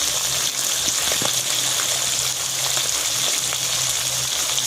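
Pieces of bata fish sizzle and crackle in hot oil in a pan, a continuous bubbling hiss with occasional sharper pops, close and fairly loud, with no voices.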